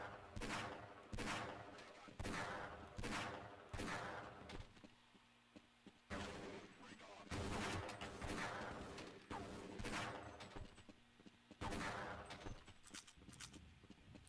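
Repeated loud gunshots from a weapon in the video game Half-Life: Blue Shift, fired in bursts of several rapid shots with brief pauses between volleys, close and dominant with no talking.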